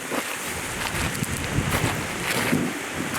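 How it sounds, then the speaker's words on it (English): Ocean waves slap and wash against a boat amid strong wind buffeting the microphone, a loud, continuous churning with irregular splashes. "Those waves keep slapping you,"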